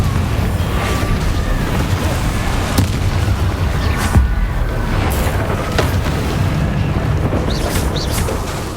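A Confringo fire spell explodes in Hogwarts Legacy among a steady rumble of blasts and bursts, loud and continuous with a few sharper cracks, and no talking.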